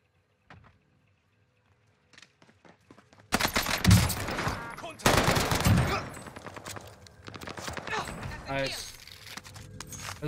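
Rapid bursts of NZ-41 rifle fire in Call of Duty Warzone Pacific, loud sustained volleys with brief gaps, following a near-silent start, with faint in-game clatter between.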